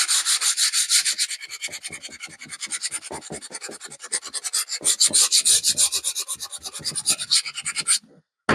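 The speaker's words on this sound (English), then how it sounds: "you can very gently get a bit of sandpaper and just give the railing a rub" Sandpaper rubs gently across a small wooden model railing in rapid, rhythmic back-and-forth strokes, a close, continuous scratchy rasping that pauses briefly near the end.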